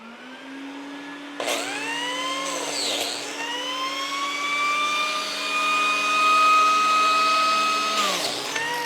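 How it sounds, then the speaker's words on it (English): A power tool cutting biscuit joint slots in wood in a furniture shop starts abruptly and runs as a steady high whine, dipping briefly as the blade bites into the workpiece, loud and close and alone. "I'm going to turn on some power tools now."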